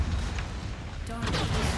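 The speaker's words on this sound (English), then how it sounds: "Oh, the ammo explosion ripped him apart." An ammunition explosion tears apart a mech in MechWarrior 5, a dense rumbling boom over continuous battle noise, lasting under two seconds with a burst of crackling near the end.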